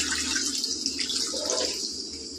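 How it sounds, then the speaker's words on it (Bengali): Water poured into a pan of spiced curry masala, a steady close splashing and gushing pour that runs on without pause for a couple of seconds. "এবারে আমি জল অ্যাড করবো এর মধ্যে"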